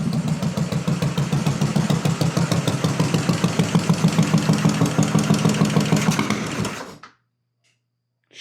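Royal Enfield chopper motorcycle with a stock VM32 carburetor idling close up, a steady rapid low thumping pulse that runs for about seven seconds, then cuts out abruptly into near silence.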